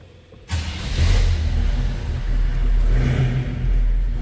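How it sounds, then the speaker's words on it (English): A 1968 Chevrolet C10 Stepside pickup with an electric fuel pump cranks and fires up after a brief quiet moment, then settles into a loud, steady, deep idle with low rumble and slight revving swells. "Let's go ahead and fire it up so you can hear it run."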